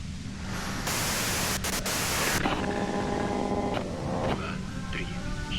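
White noise from the Disco Elysium video game, a loud, dense hiss that swells midway and then settles into a steadier static hum, with a voice underneath.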